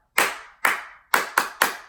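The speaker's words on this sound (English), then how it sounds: "I know for me, it was an echo clap," Students in a school classroom clap back in an echo pattern, five sharp, close hand claps in an uneven rhythm, two spaced apart and then three in quicker succession, with no talking.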